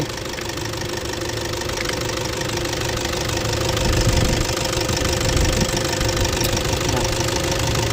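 A four-door pickup truck's engine idles nearby with a steady, rough mechanical clatter and low rumble, running continuously and loud without interruption.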